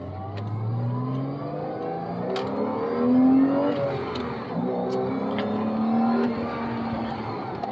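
A Porsche Boxster 987 accelerates hard from inside the cabin, its engine note climbing repeatedly through the gears with rising and falling pitch sweeps, loud and steady with no talk.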